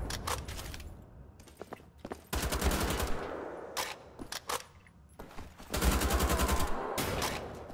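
Rapid automatic gunfire in Wolfenstein: The Old Blood comes in several loud, close bursts separated by short gaps, with mechanical clicks between volleys.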